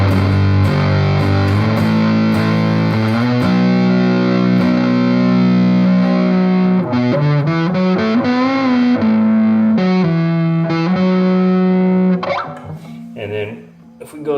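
Fuzzy distorted electric guitar through a RAT distortion clone pedal with the filter up, a scooped, bass-heavy tone, sustained notes and slides, loud throughout before trailing off at the end.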